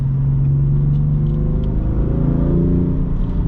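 A 2018 BMW M4 Convertible DCT Competition Package rumbles with a loud, deep engine note from inside the cabin while driving, the revs rising smoothly and steadily, with no talking.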